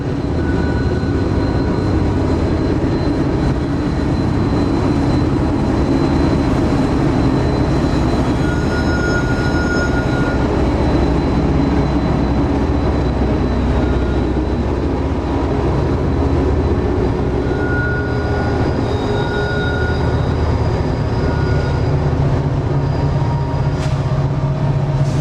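Eastbound freight trains labor up the grade past Cresson toward the Gallitzin summit on the Pittsburgh Line, with helper locomotives on the rear: a heavy, continuous rumble and grinding roll that holds steady for the whole stretch, with no talk.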